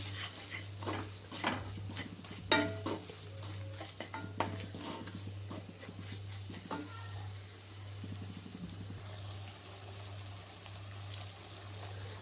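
Kolhapuri misal curry with masala is stirred in a pan, with repeated scraping strokes and a light sizzle over a steady low electrical hum, fairly quiet and close, the strokes thinning toward the end.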